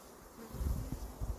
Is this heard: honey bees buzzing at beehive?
yes